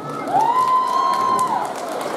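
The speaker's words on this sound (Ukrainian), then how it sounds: "Оплески Славику" Concert crowd at an outdoor Independence Day contest cheering and clapping, a brief burst of applause under a sustained whistle-like tone that rises, holds steady and drops away.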